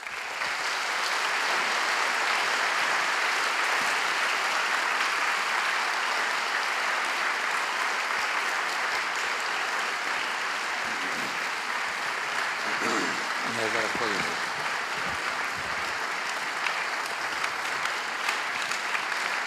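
Sustained audience applause in a hall after an open lecture on the limits of science, a steady dense wash of many hands clapping throughout, with faint voices emerging near the end.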